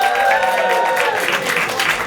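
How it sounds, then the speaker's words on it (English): Comedy club audience at a Hanukkah showcase applauding, a brief, dense wash of clapping with crowd murmur, loud and even throughout. "Give them a nice round of applause."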